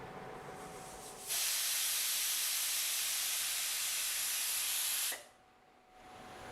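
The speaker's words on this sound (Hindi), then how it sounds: "अब अपन कुकर की तीसरी सीटी आएगी है।" A loud, steady hiss of steam jets out of a pressure cooker whistle for about four seconds, then cuts off sharply, leaving a quieter background hum.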